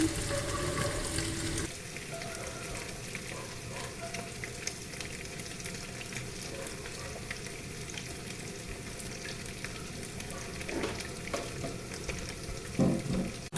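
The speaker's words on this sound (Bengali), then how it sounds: "পনিরটা ভাজা চলছে" Paneer fries in a pan with a steady close sizzle throughout and occasional stirring scrapes and clinks, louder near the start and the end.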